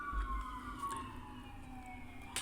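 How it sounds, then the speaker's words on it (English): A siren wails and slowly falls in pitch as it passes at a moderate distance, over quiet traffic rumble. "See if I keep my train of thought here as these sirens go by"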